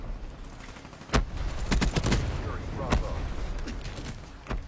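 Call of Duty gunfire crackles in repeated sharp shots and short bursts of a hard-kicking gun, mixed with game noise and a voice talking over it.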